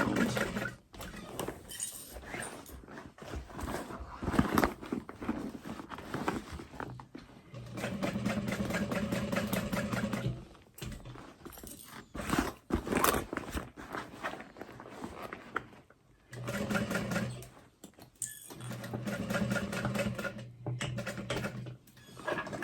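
A sewing machine stitches a fabric tote bag, back stitching as the sewer pivots around corners, running in several bursts with short pauses between them and faint clicks and handling noises in the gaps.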